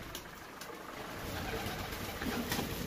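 Young pigeons coo softly in a loft, a low steady murmur of overlapping calls running through the whole stretch with faint background hum.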